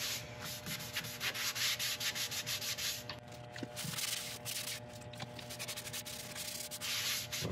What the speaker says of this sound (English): shellac sealer which I'm putting on at the start